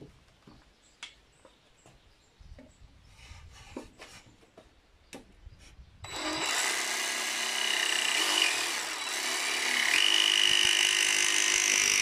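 A jigsaw cuts wood for a bed frame: light taps and knocks at first, then a steady loud buzzing saw runs continuously to the end, close and alone.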